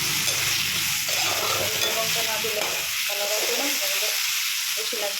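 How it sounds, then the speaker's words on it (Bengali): Dried chilies and dried fish frying in a pan, a dense steady hiss of hot oil with stirring scrapes underneath, close and loud, no talk. "এবার নাড়াচাড়া করে লঙ্কাটা ভাজা ভাজা হলো, শুটকিটাও ভাজা ভাজা হলো"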